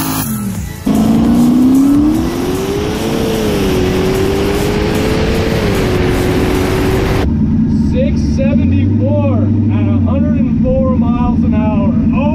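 A turbocharged street car launches hard down a drag strip, its engine roaring loud and close with a steadily rising pitch through the gears, then cutting off abruptly to a quieter rumble with other engines and background noise.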